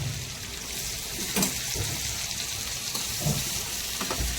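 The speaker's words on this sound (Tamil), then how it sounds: "இப்போ வெங்காயம் வதக்கும் போதே கொஞ்சம் உப்பு போட்டுக்கோ நான் பற்றி வெங்காயம் நல்லா வதங்கும்" Onions sautéing with salt in a pan for egg biryani, a steady close sizzle with occasional soft stirring scrapes and no voices.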